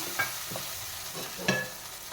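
Buttermilk being stirred into a hot pan for Kerala moru curry, with soft scraping stir strokes and a faint ongoing sizzle, two brief louder clinks of the spoon against the pan.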